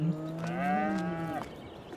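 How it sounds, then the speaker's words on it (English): A bull on a Missouri hay farm gives one long, loud, close moo lasting over a second, with a faint breathy trail after it. "here are our 8 cattle. We got 2 bulls"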